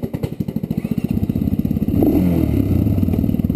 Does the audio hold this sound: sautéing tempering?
no